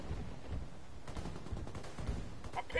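Rapid gunfire crackles through a Ghost Recon video game firefight, a dense run of close, punchy shots and bursts across the whole stretch, steady in loudness with low rumbling underneath.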